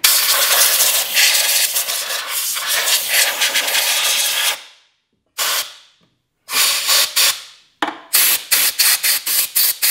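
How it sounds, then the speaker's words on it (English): Compressed shop air sprays brake dust out of a Ski-Doo snowmobile's brake, a long loud continuous hiss followed by a pause and then several shorter bursts in quick succession. "We're again gonna spray it out with some shop air."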